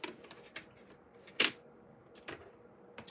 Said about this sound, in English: So I'm going to cut this once again.